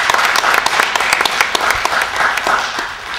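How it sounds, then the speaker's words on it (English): An audience applauds a guest on a talk-show style program, a dense, steady burst of many hands clapping close by for a few seconds with no voices over it. "y'all give her a round of applause."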